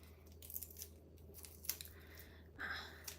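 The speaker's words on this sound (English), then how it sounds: "I'm right now I'm peeling my onion because I don't like the stuff in my food, so I'm peeling it off." Papery onion skin is peeled off by hand while ground beef for tacos is being prepared, making faint crinkling and tearing sounds in a few short bursts with a longer rip near the end.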